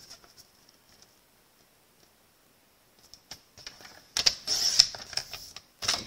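A trimmer cuts a scrap of cardstock into strips: near silence, then scattered clicks, followed by a dense rasping patter of the blade sliding along the paper and a final click, all close by.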